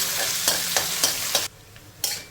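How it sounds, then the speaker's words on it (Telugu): Onion pieces with a few curry leaves fry in a pan, a loud steady sizzle broken by several sharp stirring scrapes, then briefly quieter before another scrape; no voices. "ఈ ఉల్లిపాయ ముక్కల్ని ఒక 2 నిమిషాలు ఫ్రై చేసేసుకోవాలి."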